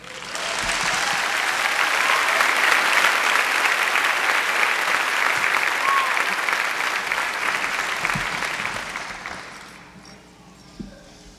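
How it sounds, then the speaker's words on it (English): Large graduation ceremony crowd applauding, a broad roar of clapping that holds steady for several seconds and then fades away toward the end. "Let's give him another round of applause."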